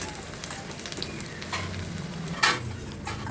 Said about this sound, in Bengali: তারপরে এখানে ছোট্ট সাইজের একটা পেঁয়াজ ভেজে তুলে রাখবো